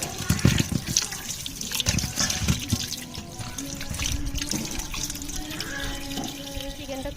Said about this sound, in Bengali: আমি চিকেনটা খুব ভালোভাবে ধুয়ে নেবো